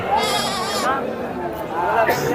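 Goats bleat repeatedly amid a busy sheep and goat market crowd in Mydukur, their wavering cries overlapping with nearby chatter and voices.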